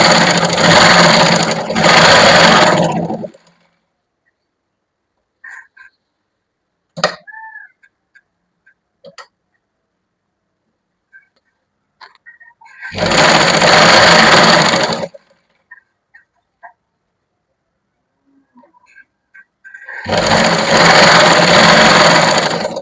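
A sewing machine double-stitching a lined kurti sleeve runs in three loud bursts of rapid mechanical whirring. Quiet gaps between them hold faint clicks and handling of the fabric.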